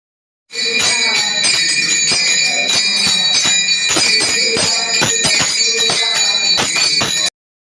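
A temple bell rings during the mangalarati worship ritual at a Shiva shrine, striking in a quick, repeated rhythm with bright overlapping metallic tones that carry loudly and continuously.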